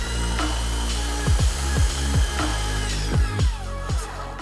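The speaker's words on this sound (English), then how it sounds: "we're going to hold the belt sander like this" A belt sander works a wooden board with a steady, loud motor drone, its pitch dipping in repeated swoops as the tool is pushed back and forth against the wood, with no voices.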